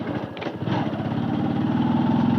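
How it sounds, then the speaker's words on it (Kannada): A motorcycle engine with a problem running on a road, a steady close mid-pitched idle-like drone with slightly rough pulsing, heard alone. "ಬೈಕ್ ಚೂರು ಪ್ರಾಬ್ಲಮ್ ಬರ್ಕು"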